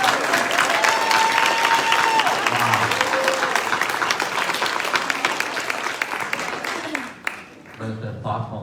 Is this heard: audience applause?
yes